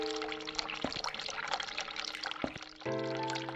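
Hot water runs from a sink tap in the video game The Cat Lady, a steady pouring trickle that lasts throughout, layered over sustained background tones that swell near the end.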